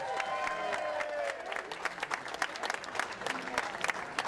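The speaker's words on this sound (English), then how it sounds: "Big round of applause." A room crowd breaks into applause, a dense round of clapping with a few cheers, steady for several seconds at moderate distance.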